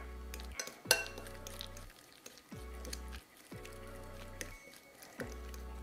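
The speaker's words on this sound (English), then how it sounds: "And then we're gonna mash everything together with our fork." A fork mashes egg yolks with mayonnaise, mustard and vinegar in a bowl, repeated soft squishy presses and scraping clinks in a regular rhythm, close and quiet.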